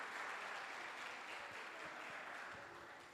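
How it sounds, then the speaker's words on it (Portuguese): Audience applause after a live-or-dead group game during a church sermon, a steady broad clatter of clapping from a crowd, holding fairly even for about three seconds before easing slightly. "Uma salva de palmas a vocês."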